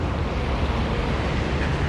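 Steady ocean surf at a small beach in Malta, a continuous broadband wash of waves with wind buffeting the microphone, no voices.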